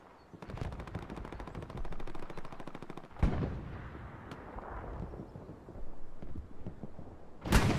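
Rapid machine gun bursts rattle through a World War II online shooter battle, a long sustained stream of shots followed by scattered gunfire and a few heavy booms, heard at moderate distance with no talk.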